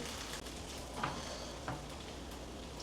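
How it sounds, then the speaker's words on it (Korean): Spicy Korean dak-doritang chicken stew simmering and being stirred at a restaurant table, a low steady bubbling hiss with a couple of faint spoon clinks, quiet and without talk. "좀 약간 저어 주셔야 되는 거 아니에요?"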